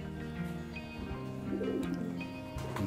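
Domestic pigeons in a loft coo softly, giving faint low murmuring calls against quiet background noise.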